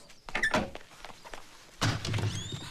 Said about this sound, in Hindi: खिड़की बंद कर, दरवाजा खोल।